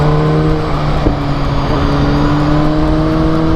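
A Vespa scooter engine passing on a road toward Monte Grappa, a steady buzzing drone that swells and shifts in pitch as it goes by, close and fairly loud with no talk over it.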